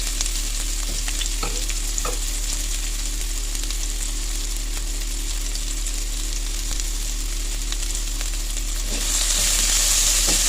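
Sliced onion sautéing in oil in a pan, a steady close sizzle and crackle with occasional stirring clinks, the frying hiss swelling louder near the end.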